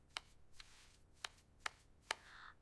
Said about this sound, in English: I am mashing the sweet potatoes.